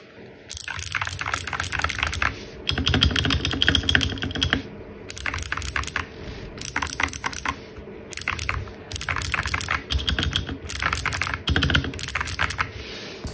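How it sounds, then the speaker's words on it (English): Fast, steady typing on a mechanical computer keyboard tuned for a deep, muted thocky sound, heard up close as dense bursts of keystrokes with short pauses between them. "THOCCY, possibly the most sought-after sound in the keyboard community"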